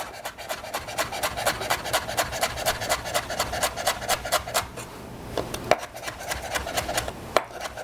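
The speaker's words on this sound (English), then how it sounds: "these are some of the leaves of the fennel. We're going to chop some of that up." A knife chops fennel leaves on a cutting board in a steady run of quick, close, crisp strikes, with a brief pause before a few final chops.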